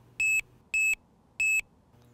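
A carp fishing bite alarm receiver gives three loud, clean electronic beeps in quick succession, evenly spaced and each lasting about a fifth of a second, with no other sound between them.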